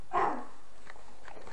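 A person imitates a dog with a single short, sharp bark close by, followed by near quiet with a few faint sounds.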